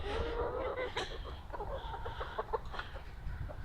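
Chickens gathering by a backyard coop and run behind a tall fence, soft clucks and short rooster-like calls repeating close by over a low outdoor rumble.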